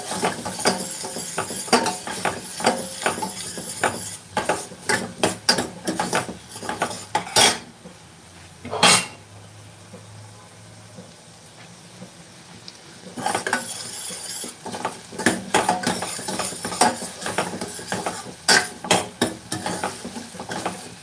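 Spring onion whites and chopped onions stirred in a pan with butter, marked by busy clattering and scraping of a utensil against the pan, then a quieter stretch of faint sizzling before the brisk stirring returns.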